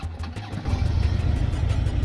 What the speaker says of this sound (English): Exhaust sounds kind of weak.